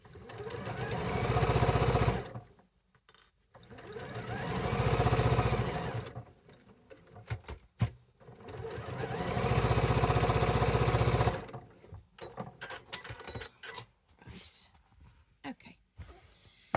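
A sewing machine stitching a quilt block, likely with a sewing foot, runs in three sustained whirring bursts separated by short pauses with scattered clicks and handling noises, close and fairly loud.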